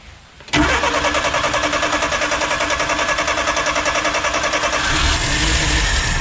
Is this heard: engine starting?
yes